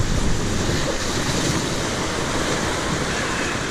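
Whitewater rapids on the Pigeon River roar as a continuous broadband rush of crashing, churning waves, loud and close, with wind buffeting the microphone and no voices.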